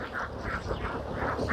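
Ducks on an open-air farm under the sky quack in a quick, repeated burst of nasal calls, fairly close and continuous over a steady outdoor background.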